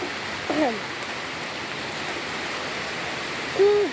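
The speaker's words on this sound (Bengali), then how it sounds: "দেখেন আপনারা বৃষ্টি পড়ছে, দেখছেন?" Rain falls steadily outdoors, heard from beneath a tree, a continuous soft hiss of drops filling the background, with a couple of brief faint chirps or squeaks rising over it.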